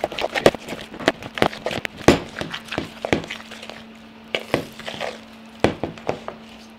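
Pop-Tart brownie batter, with a watermelon crush Pop-Tart mixed in, being stirred in a bowl: loud, close, irregular scraping and clacking strokes over a steady low hum, with no talking.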